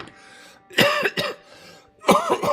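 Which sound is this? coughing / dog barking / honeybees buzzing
coughing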